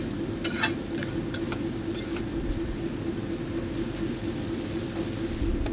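Potatoes fry in a covered pan with a continuous dense sizzle, broken by several bright clinks and scrapes of a utensil early on.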